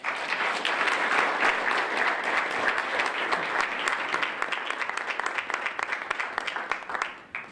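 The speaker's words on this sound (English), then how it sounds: "Let's have a round of applause for Liam." Steady audience applause at a White Ribbon Day event, a dense wash of many clapping hands sustained for several seconds before tapering off at the end.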